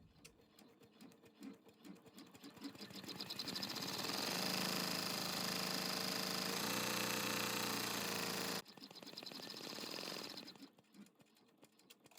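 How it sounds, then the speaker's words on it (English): An embroidery machine stitches out a taco design, starting with rapid ticking stitches, then swelling into a loud, steady mechanical drone that cuts off abruptly and resumes briefly before fading back to lighter clicking. "So I'm going to go ahead and stitch out the taco and let that run."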